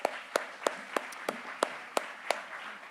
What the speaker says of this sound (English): You can go ahead and give him a round of applause.